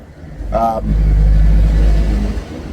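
A UPS delivery truck drives past on a street, a loud low rumble swelling and holding for about two seconds before fading, with a brief voice just before it arrives.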